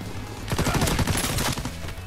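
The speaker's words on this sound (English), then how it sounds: "I was shooting him." Gunfire in Call of Duty WWII, with a rapid burst of loud, close shots rattling in quick succession for about a second.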